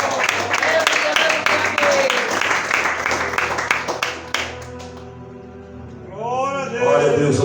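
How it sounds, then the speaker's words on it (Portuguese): A church congregation claps for Jesus during a revival service, brisk rhythmic clapping with voices mixed in that thins out halfway, leaving a preacher's voice speaking alone. "As palmas para Jesus Cristo."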